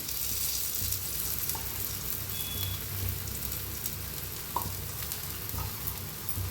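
Steady soft sizzling of a spinach thalipeeth flatbread frying in an oiled pan, continuous and close, with a few faint clicks and taps over the hiss.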